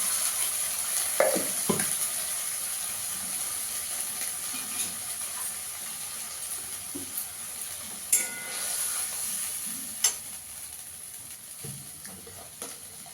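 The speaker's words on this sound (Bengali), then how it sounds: "বাটিটা দিয়ে একটু জল দিয়ে দেবো।" Water tipped into a hot pan while making bata fish curry hisses and sizzles steadily, with a few sharp clinks of a bowl against metal over a bright, continuous frying hiss.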